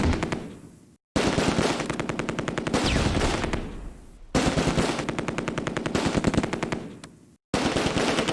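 Sustained machine gun bursts in the WWII strategy game Close Combat, loud and rapid, firing in long continuous strings broken by brief pauses, with no talking over them.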